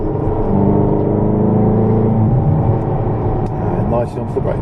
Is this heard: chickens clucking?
no